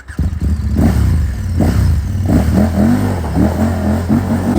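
A KTM 1190 motorcycle engine revs hard while being ridden, loud and close, with rising and falling throttle bursts and some clatter of the bike over the road.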